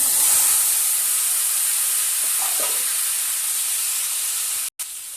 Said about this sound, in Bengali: এবারে দিয়ে দেবো লাউ,